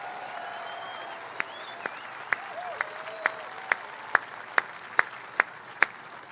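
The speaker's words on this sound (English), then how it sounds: "Let's give a round of applause to David." Applause from a large crowd at a political rally, a distant, steady wash of clapping and crowd noise with a few sharper claps standing out near the microphone.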